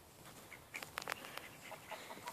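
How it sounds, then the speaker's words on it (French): A white goose on a farm gives a few short honks and clucking calls, with a louder cluster of calls near the middle of the clip. The calls are close and moderately loud over quiet background noise, with no talk. "Oie blanche."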